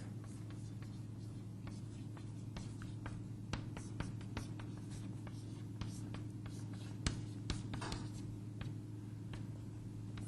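Chalk or marker writing on a board during a lecture on bidirectional path tracing, quiet scratchy strokes and light taps in irregular bursts against a steady low hum, with no talking.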